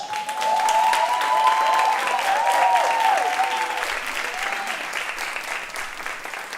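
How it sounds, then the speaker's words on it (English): Loud, sustained applause from an audience, with a voice-like tone briefly rising over the clapping before the applause gradually thins out. "Y'all keep clapping for the little queen."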